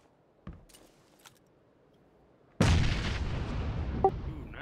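A frag grenade explodes in a video game with one sudden loud boom that decays into a long rumble, after a few faint distant shots and clicks.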